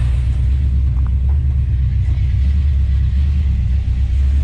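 A 1970 Plymouth Duster 340 race car engine runs loud and close with a heavy, steady low rumble, holding an even idle-like drone throughout with little audible rise in revs.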